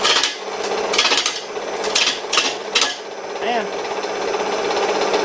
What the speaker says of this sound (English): I guess I should also test one of those worn out gouges that came with the lathe.